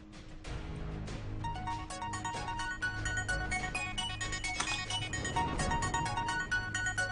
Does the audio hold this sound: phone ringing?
yes